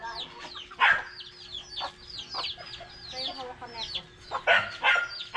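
Chickens being fed on a rural farm in the provinces cluck and chatter continuously, with a few louder squawks standing out over a steady bed of busy fowl calls.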